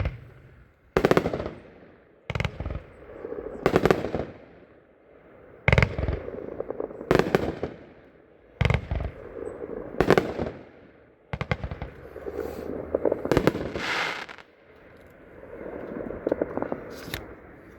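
A Barely Legal 24-shot fireworks cake fires a string of sharp, loud bursts in irregular clusters, each crack trailing into crackle and decay, heard alone outdoors.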